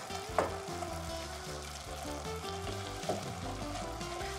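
Tomato paste stirred in a frying pan for lasagna, a steady sizzle with two distinct scrapes of the utensil against the pan, and no talking.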